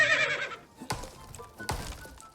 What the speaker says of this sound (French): c'est un cheval de fou